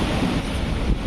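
Arabian Sea surf washes against the Mumbai shore in a steady, close roar, with heavy wind buffeting throughout.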